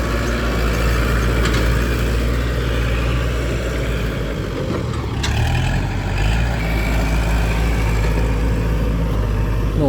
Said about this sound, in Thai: เจ้า L 5 0 1 8 SP ตัวแรงนะครับ ปล่อยมาใหม่ ๆสดๆร้อนๆครับ